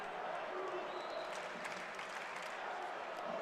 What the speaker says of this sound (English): Crowd chanting, "Let's go Hoosiers."